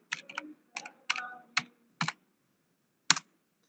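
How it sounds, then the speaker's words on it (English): Typing on a computer keyboard, six short bursts of clicky keystrokes at an uneven pace, close and fairly quiet, with pauses between them and no talk. "I'm again typing it over here."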